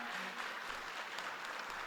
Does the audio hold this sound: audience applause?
yes